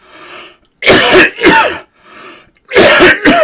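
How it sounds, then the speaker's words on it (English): A person coughs in short, harsh bursts: a soft throat noise, then two loud close coughs, a pause, and two more loud coughs, with no talking. "I cough all the time."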